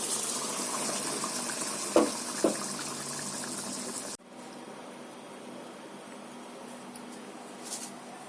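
Cooked bata fish curry with mango and mustard poured out of a pan: a close, steady wet gushing slide with a couple of soft knocks, ending abruptly midway and leaving quiet room tone.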